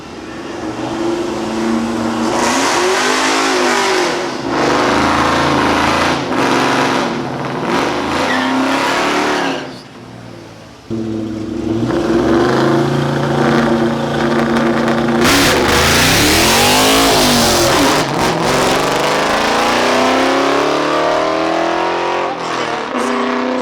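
A loud drag racing car, a modified Dodge Demon, revs hard and repeatedly before a burnout, roaring and dropping off, with a brief lull in the middle before another surge of high revving.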